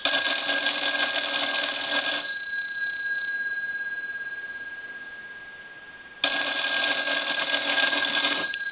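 A Northern Electric Galion rotary desk telephone ringing during a low side ring cycle test: a loud, steady electric bell ring for about two seconds, a pause of quiet, then the ring starting again.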